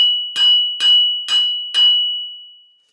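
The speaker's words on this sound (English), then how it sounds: "when I tapped it with a hammer" Four sharp metallic taps of a hammer on a Suzuki Jimny rear wheel bearing at a steady pace, each leaving a bright ringing tone that lingers and fades out after the last strike.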